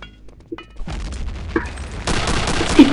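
Gunfire bursts and explosive booms from the Return to Castle Wolfenstein shooter game, starting quiet and building into a dense, loud fusillade of shots and thuds over the last second or so.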